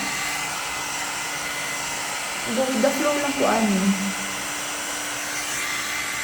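A hair dryer blows steadily and loudly up close throughout, a constant broadband whoosh, while someone talks briefly over it midway.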